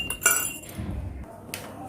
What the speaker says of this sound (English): Once again, I will take it water in the glass.